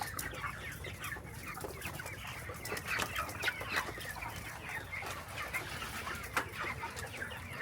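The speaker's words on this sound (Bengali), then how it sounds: "এইগুলো আমাদের খামারের মুরগির অবস্থা" A large flock of some 3000 broiler chickens in a poultry farm keeps up a quiet, steady chorus of overlapping clucks and chirps.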